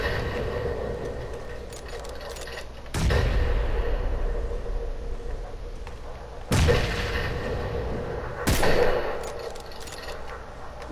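In-game grenade blasts during a PUBG match near a house balcony: three sharp, heavy booms land a few seconds apart, each trailing off over a low rumbling background, with no talk.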